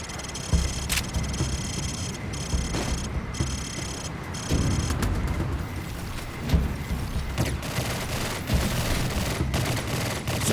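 Gunfire from a shooting range in the Call of Duty 4 video game, with sharp bursts of shots and rattling volleys at mid distance over a steady mechanical hum, and no talk.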